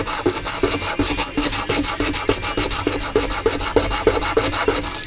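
A piece of bone is rubbed with fine sandpaper to clear pitting and dirt for scrimshaw, giving a steady, close rasping scratch with quick repeated strokes and no voices.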